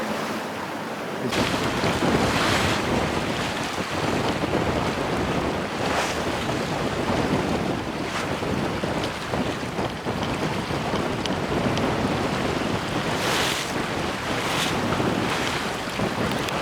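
Strong wind of around 30 knots roars across the microphone aboard the sailing boat Zephyr IV on a reach, with waves rushing and splashing against the hull in a loud, continuous wash that surges now and then.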